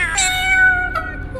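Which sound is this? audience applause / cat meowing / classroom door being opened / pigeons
cat meowing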